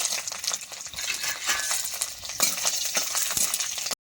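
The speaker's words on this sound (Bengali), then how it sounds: "এবার আমি রসুনের কোয়াগুলো ভেজে নেব।" Garlic cloves fry in hot oil in a pan, a steady close hiss broken by light stirring clicks and clinks, cutting off abruptly just before the end.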